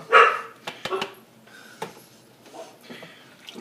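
A dog barks in a home kitchen where beef stock is being stirred into a dish: a loud near bark at the start, then a few softer yips and whimpers scattered through the quiet.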